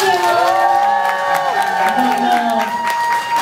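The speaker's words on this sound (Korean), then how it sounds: "여러분 큰 박수 부탁드립니다." Fans at a charity concert cheer and applaud loudly and close by, with high, sustained shrieks and whoops over the noise of the crowd.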